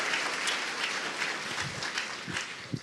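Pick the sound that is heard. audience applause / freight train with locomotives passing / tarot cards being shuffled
audience applause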